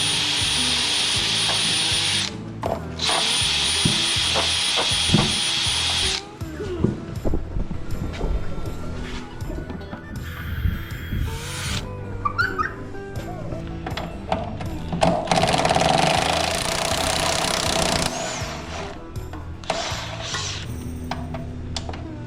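Tapping M12 by 1.25 threaded holes for a trailer hitch install on a Kia Carnival, heard as a run of close, uneven metallic grinding, scraping and ratcheting tool noise with brief pauses and shifts in intensity across the whole stretch.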